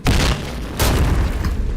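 Gunshots in the online shooter Point Blank come as two loud, close blasts a little under a second apart, each with a short booming tail, and no talk over them.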